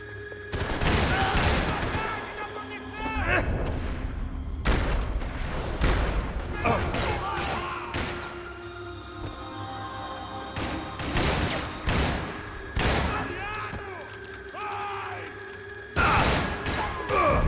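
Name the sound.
gunfire in a shooting arena, Max Payne 3 video game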